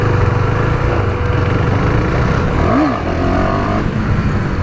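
KTM 390 Duke motorcycle engine revving loudly and steadily up close during a first wheelie attempt, with a brief pitch sweep rising and falling partway through.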